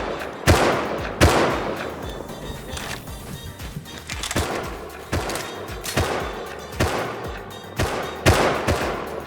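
Repeated gunfire from a game of Rust, sharp loud shots arriving in uneven bursts and single cracks, some with deep booming tails, densely spaced over the whole stretch with no talking.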